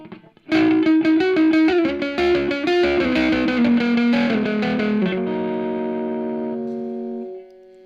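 An electric guitar plays a busy run of notes through the heavy, drenched reverb of a Monoprice 15-watt tube amp, then lets a final chord ring out and slowly decay into silence.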